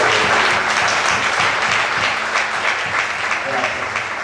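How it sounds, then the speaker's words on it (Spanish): Loud, dense applause fills a church service at a revival center as the congregation claps in praise, continuous and close, with some voices mixed in. "Den un aplauso al Señor."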